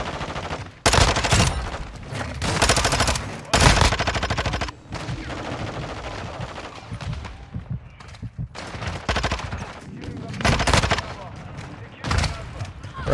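Shotgun blasts in the video game Modern Warfare II, loud sharp bursts scattered irregularly among rapid gunfire and explosions, with a player talking at times.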